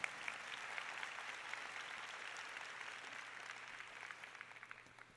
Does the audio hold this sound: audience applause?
yes